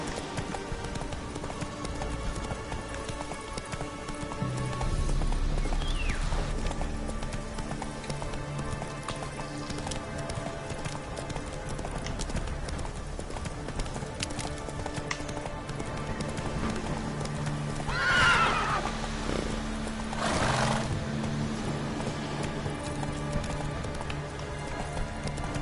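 Roach the horse in The Witcher 3 gallops with steady, rhythmic hoofbeats over game ambience and music, and a short neigh rises near the end.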